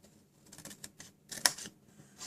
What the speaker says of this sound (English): Just snip away that score line.